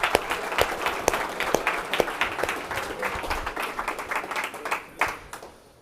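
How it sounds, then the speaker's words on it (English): A conference audience breaks into a round of applause, dense overlapping claps close by at a steady level that thin out and fade toward the end. "Round of applause."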